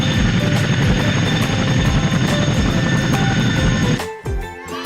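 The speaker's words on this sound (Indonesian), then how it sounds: "Wow, helikopter militer." Toy military helicopter sound effect with steady rotor whirring and buzzing at constant loudness, cutting off near the end.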